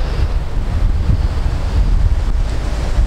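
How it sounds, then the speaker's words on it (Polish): Strong wind buffets the microphone in a steady low roar while perch fishing, with a churning rush like surf underneath and no voices. "ten wiatr jest niemożliwy"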